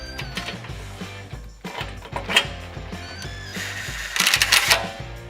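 Ratchet tightening 12mm bolts on the skid plate of a 3rd-gen Toyota Tacoma, a series of quick clicking bursts with metallic ticks, close and moderately loud, building to a denser flurry near the end.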